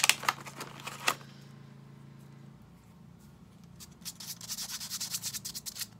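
Cheap bargain-store brushes rubbed against a surface, giving dry scratchy strokes close to the mic: a few sharp scrapes at the start, a quieter stretch, then a steady run of rhythmic rubbing toward the end.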